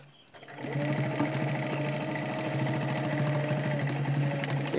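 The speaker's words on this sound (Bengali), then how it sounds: "টাক বলতে ডবল আর কি, এটা দিতে হবে, সেলাইটা দিতে হবে।" Sewing machine stitching a corner of a cloth bag: a close, steady whirring hum with rapid needle clatter that starts abruptly and runs continuously, with no talk over it.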